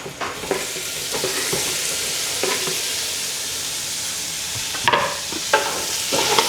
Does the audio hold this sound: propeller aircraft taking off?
no